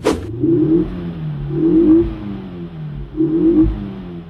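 Five-cylinder, 350-horsepower engine of a 2010 Ford Focus RS500 revving, three separate rising pulls in quick succession, each climbing in pitch then easing off, close and loud with no talk.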